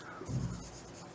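Chalk or marker scraping across a classroom board while chemical equations are written, a faint rubbing rasp that swells briefly near the start and then settles into a quiet scratch.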